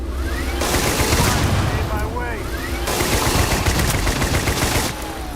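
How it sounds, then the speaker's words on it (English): Minigun with the explosive trait firing in Starfield, sustained dense rattling bursts with booming impacts, loud and close, with a short break in the middle and voices over the top. "It's the explosive trait on a minigun that is terrible"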